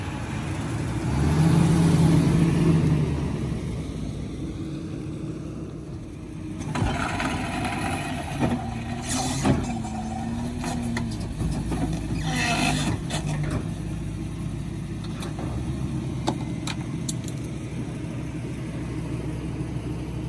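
A pickup truck's engine idles and rumbles at low speed while towing a Foxbody Mustang around in a garage, a brief louder surge early, then a steady low drone with scattered clanks and knocks.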